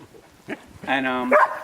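Dogs at a home construction site where concrete steps are being poured give a short bark and a longer whimpering, whining call, fairly close, with a voice speaking around them.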